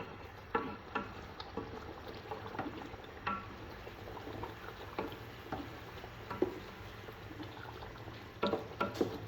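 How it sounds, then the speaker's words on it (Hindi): Aloo gosht mutton frying in oil in a handi, a soft steady sizzle with scattered pops and stirring clicks, faint and close, with no talk. "अब हम इसे अच्छी तरह भूनेंगे।"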